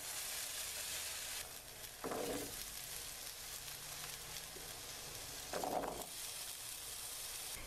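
Potatoes frying in hot oil in a pan, a quiet continuous sizzle broken by two short bursts of stirring, heard close and alone.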